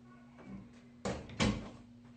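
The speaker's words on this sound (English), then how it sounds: "Let me close the door." An indoor door is pushed shut in a home setting, a dull bump followed by a sharper latching thud, close and brief, over a low steady electrical hum.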